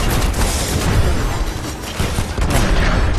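Dense, loud explosions and weapon fire rumble continuously in the video game Destiny: Rise of Iron, a thick wall of booming blasts and crackling bursts with no clear gaps.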